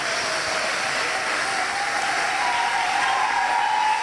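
A congregation applauds at a wedding blessing, an even, continuous wash of many hands clapping throughout, with a faint high tone running underneath.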